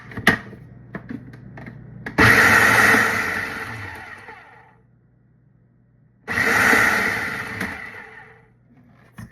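A food processor roughly chopping garden vegetables for chunky salsa whirs in two short, loud bursts of a few seconds each, separated by a quiet pause with a low background hum.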